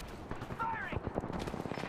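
Rapid gunfire crackles in a first-person shooter video game, faint bursts of automatic shots rattling in quick succession beneath a brief voice.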